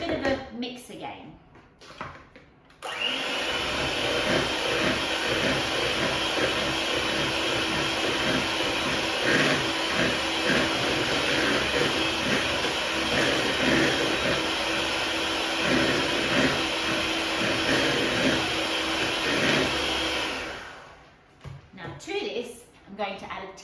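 An electric mixer whirs through a no-bake cheesecake filling of cream cheese, icing sugar and lemon juice, a steady close motor drone lasting about eighteen seconds, with talk just before it starts and after it stops.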